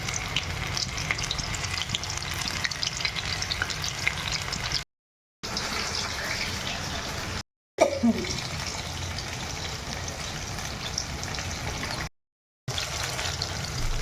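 Pieces of baby corn deep-fry in a kadai of hot white oil for crispy chilli baby corn, a continuous close bubbling sizzle broken by a few short silent gaps, with no voices.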